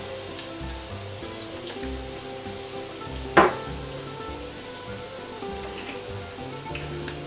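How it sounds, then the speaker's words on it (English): Portuguese cod fritters, pataniscas, frying in a pan with a steady, soft sizzle and crackle throughout, broken once by a brief, sharper pop or scrape. "We should let them fry a couple of minutes on each side, and then we should flip them."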